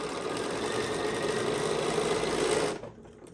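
A sewing machine stitches granny square quilt strips, running as a steady, loud mechanical whir for almost three seconds before stopping abruptly and leaving a faint hum.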